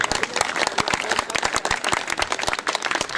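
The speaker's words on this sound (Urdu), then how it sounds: "تالیاں جی تالیاں." An audience at an Urdu poetry gathering claps for a poet. Many distinct, sharp hand claps land in a loose, lively rhythm at close range.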